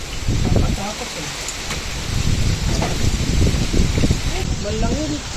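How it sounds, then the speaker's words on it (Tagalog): Heavy rain pouring down at a fishpond in Cainta, Rizal, a dense continuous hiss with wind buffeting the microphone and people talking close by throughout. "Lakas pa po ng ulan."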